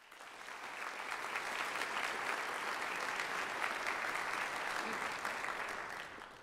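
A large audience gives sustained, even applause for new honor society initiates at a college honors convocation, a dense wash of clapping that swells in, holds steady for several seconds, and tapers at the end.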